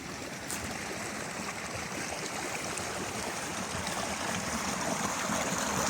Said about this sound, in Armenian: կաթնային, ձներից հալած ջուր է, սարերից իջնում